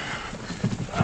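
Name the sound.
horse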